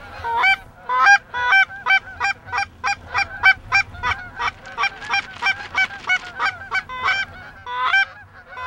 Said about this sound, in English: open landing zone area where these geese want to land